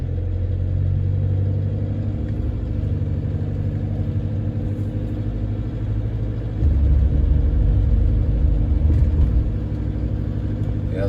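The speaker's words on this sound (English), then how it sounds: "even when I go light load there, 1500 revs, it's sort of rattly that" A Toyota Hilux diesel engine held at around 1500 rpm under light load with a faint rattle, a steady close low rumble and drone that swells slightly partway through, no talking.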